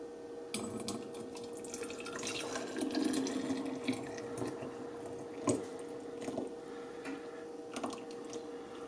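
Homemade maple syrup, made by the ice concentration method, is poured into a bottle close by, with a thin liquid trickle and gurgle, scattered small clicks and knocks, and a steady hum running underneath.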